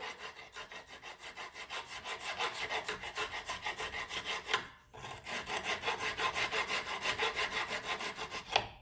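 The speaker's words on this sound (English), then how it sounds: "Start grinding away slowly until you start seeing a little bit of silver." A hand file scrapes rust off a brake pad shim on a 2013 Hyundai Santa Fe Turbo Sport, in quick rhythmic back-and-forth rasping strokes, close and fairly quiet, with one brief pause midway.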